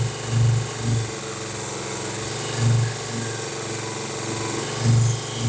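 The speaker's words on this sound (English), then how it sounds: "So let's take this over to my little belt sander and let's shape it." A small belt sander shapes a balsa wood stick float body, a steady motor hum with a few louder bursts as the wood presses against the belt, close up and with no speech.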